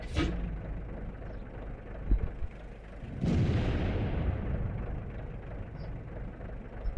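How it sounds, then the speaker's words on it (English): A shell slams into a Jagdpanzer IV tank destroyer in World of Tanks, a sudden heavy impact boom followed by a rumbling, fading roar amid constant battle noise and engine drone. "Gets a shell into him for 246 damage."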